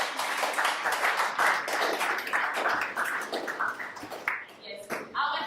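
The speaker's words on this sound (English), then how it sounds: "can we all give him a hand of applause?" An audience at a Kumasi Konnect meetup claps for a startup speaker, a dense, steady wash of many hands sustained for several seconds before thinning out near the end.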